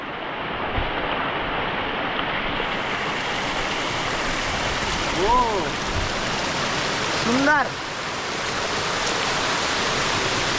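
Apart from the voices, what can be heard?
Nanemachi small waterfall, flowing water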